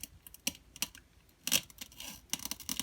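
Plastic toy knife cutting pretend-play toy food in a kids' play kitchen: a run of sharp, dry clicks and taps, some close together and some spaced out, loud and near with no talk.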